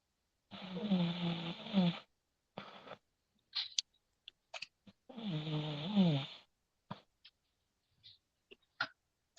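A person snores over a call in two long, rough, rasping breaths a few seconds apart, with small scattered clicks and noises in between and near silence elsewhere.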